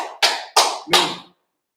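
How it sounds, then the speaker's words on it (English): Three short, sharp bursts of clapping from a crowd at a gathering in Durham, North Carolina, each decaying quickly, followed by silence. "Clap it up"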